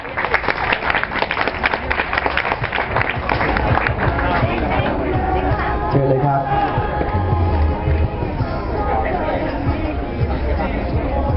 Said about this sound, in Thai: วันนี้ปรบมือด้วยครับ